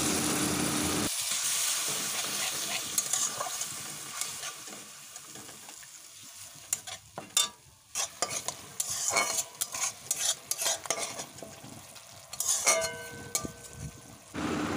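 Lentil masala with turmeric and chilli powder fries steadily in a pan for red amaranth lentil dal, a continuous sizzle broken by sharp scraping stirs that grow busier in the second half.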